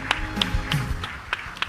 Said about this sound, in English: Please give them a louder round of applause,